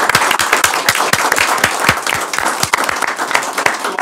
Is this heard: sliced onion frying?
no